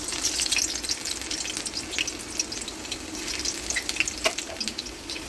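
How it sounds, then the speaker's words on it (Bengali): Garlic frying in hot oil in a home kitchen, a steady close crackling sizzle with bright popping spatters and light stirring scrapes, no voices. "ফার্স্টে রসুনটা ভেজে নেব।"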